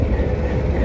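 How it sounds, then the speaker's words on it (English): A diesel train rolls in on the tracks near Silverton, Colorado, making a loud, steady low rumble close by with no break. "It's a diesel train"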